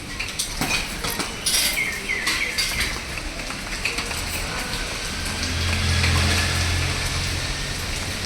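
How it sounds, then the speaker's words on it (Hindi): Steady rain falling outdoors on an overcast day after a Vat Savitri puja, a continuous broadband wash with scattered drop-like ticks and a low rumbling hum swelling toward the end. "लेकिन आज देखिए बारिश जैसा मौसम है, पूरा बारिश भी आ गया है।"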